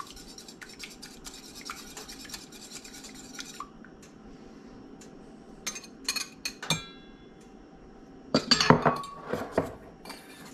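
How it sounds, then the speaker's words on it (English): Egg being stirred in a bowl while making beer batter for smelt: soft clinks and scraping of a utensil against the bowl, sparse at first, then a denser burst of clinking near the end. "mix up our egg."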